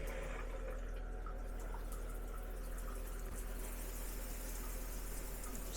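Water runs steadily from a faucet in the shower of a Jayco NorthPoint 310RLTS RV while it is being dewinterized, a constant low hiss and flow that stays even throughout with no voices.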